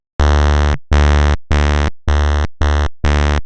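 A sawtooth synthesizer patch in Ableton plays six loud, bright, buzzy sustained notes of about half a second each, separated by short silent gaps.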